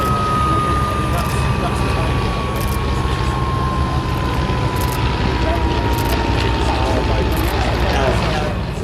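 A Fairey Swordfish biplane flies at the Shuttleworth airshow, its loud, continuous propeller-engine drone filling the scene with a slowly falling pitch as it passes, while a person talks nearby.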